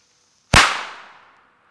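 One sharp, loud China firecracker bang from two firecrackers exploding together, ringing out and decaying over about a second, alone and close by.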